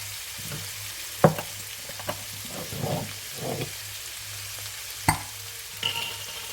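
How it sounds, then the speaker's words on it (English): About two teaspoons of garlic paste sizzle in a pan for braised pork ribs. A steady frying hiss is broken by a few sharp clinks and scraping stirs, with no talk. "adding garlic paste, about 2 teaspoons of garlic paste"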